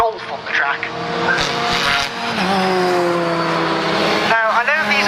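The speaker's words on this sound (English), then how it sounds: "why is there a Volkswagen Golf on the track?" A Volkswagen Golf running on a race track during a motorsport session, its engine droning loud and steady with shifting pitch sweeps, a brief dip near the end, under continuous commentary talk.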